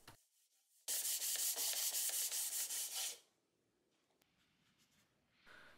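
Loud, close rasping strokes of sandpaper on painted timber furniture, a rhythmic burst of rubbing lasting about two seconds, followed by quieter scuffs and handling sounds.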